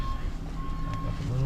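A steady electronic reversing beep sounds as a vehicle is shifted into reverse on a cold winter day, a thin continuous tone over low engine rumble, with a voice speaking nearby.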